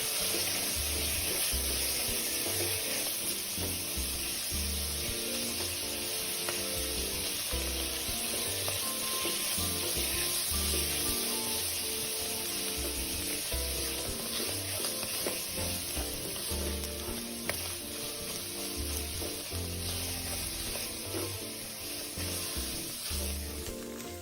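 Minced pork, diced shiitake mushrooms and soaked, chopped dried shrimp stir-fry in a wok, with a constant loud sizzle and repeated rhythmic scraping and tossing of the spatula, no talking.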